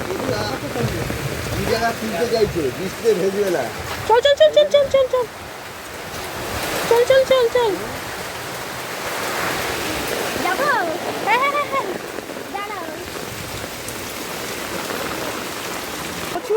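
Heavy rain pours down steadily in a continuous loud wash, with people talking over it throughout.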